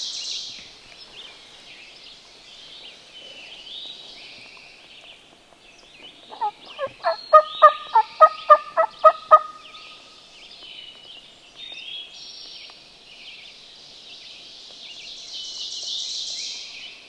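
A wild turkey gobbles in a Pennsylvania spring woods, one rapid rattling burst of roughly ten pulses in the middle, distant but clear. Songbirds chirp faintly throughout, and nobody speaks.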